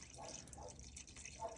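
Water mixed with oil drains and drips from the engine of a 1967 Dodge A100 fitted with a 440, a faint, uneven trickle with soft splashes close by.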